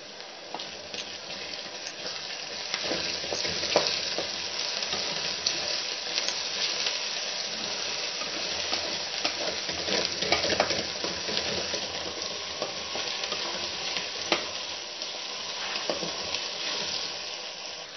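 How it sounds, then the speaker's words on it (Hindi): Garlic paste fries in a hot pan with a steady, even sizzle that continues close by throughout, with occasional faint stirring clicks and no talk. "हमारा लहसुन जो अच्छे से फ्राई हो चुका है"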